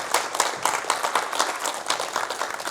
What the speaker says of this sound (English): let's give Lindsey a round of applause